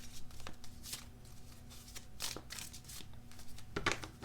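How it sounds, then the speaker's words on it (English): Tarot cards being shuffled by hand, a soft papery riffle and flutter with a few sharper slaps, close and fairly quiet, no talking. "shuffle and pull a few from the top"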